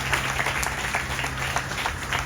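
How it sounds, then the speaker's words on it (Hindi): Steady applause from a church audience at a pastor's ordination service, sustained dense clapping throughout with no speech over it. "क्या हम जोरदार ताली बजाएंगे"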